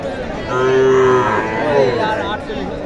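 A bull calf at the Dhamoirhat livestock market in Naogaon gives one long, loud, close moo that rises and fades, followed by a shorter second call, over faint market chatter.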